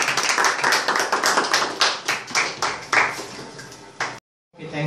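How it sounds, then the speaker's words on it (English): Audience at a talent show clapping in uneven bursts, fairly close and loud, tapering off before a brief silence and a final short swell. "give a big round of applause again"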